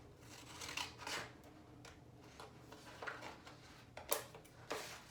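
Scissors snip through paper labels at a tabletop craft task, several short crisp cuts spaced irregularly across the stretch, faint and close with quiet rustling between them.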